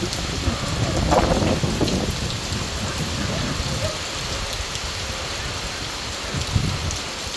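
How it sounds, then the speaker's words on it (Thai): Heavy rain pours down with gusts of wind, a dense steady hiss with low rumbling surges, and a brief voice briefly audible early on. "ลมฝนมาแล้วทุกคน"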